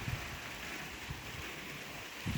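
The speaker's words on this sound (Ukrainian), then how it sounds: "Дощик не перестає. Може зараз перестане." Steady rain falls over a garden of flowers and wet paving, a soft continuous hiss with occasional faint drips, heard alone without voices.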